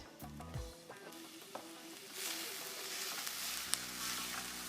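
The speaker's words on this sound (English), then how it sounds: "It should saute for about 5 minutes or so, and it'll really start to get a good caramelization" Jackfruit sautés in a hot pan, caramelizing with a steady, close sizzle that grows brighter and louder partway through, with a few soft stirring scrapes and taps and no voices.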